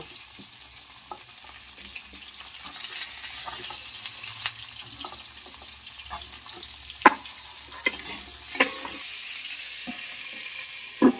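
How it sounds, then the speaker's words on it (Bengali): Potatoes frying over a lowered gas flame, a soft, steady sizzle close by, broken now and then by sharp clinks and scrapes of a utensil against the pan. "আমি এবার গ্যাস কমিয়ে এটা মিনিট 5 মতন একটু ভেজে নেবো আলুগুলোকে"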